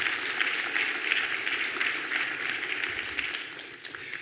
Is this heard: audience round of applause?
yes